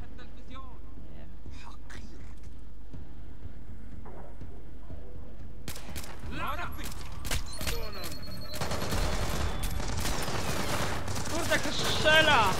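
Gunfire from a weapon in the stealth shooter Splinter Cell Blacklist. After a quiet, murmured stretch, loud cracking shots break out and build into dense, rapid automatic bursts, with a voice talking over them.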